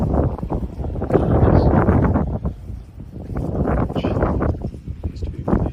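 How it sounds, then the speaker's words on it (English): Steady wind buffets the microphone in an April garden, with a low, gusty roar rising and falling throughout. "it's windy out."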